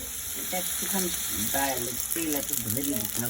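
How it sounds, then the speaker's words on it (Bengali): Onions fry in hot oil in a pan for urad dal, giving a steady close sizzle while someone talks over it. "পেঁয়াজটা জাস্ট লাল করে ভেজে নিতে হবে"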